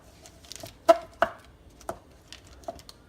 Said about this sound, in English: And now we need 12 tablespoons of butter. And you want to cut them into pieces.